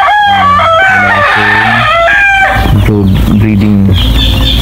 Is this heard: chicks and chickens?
yes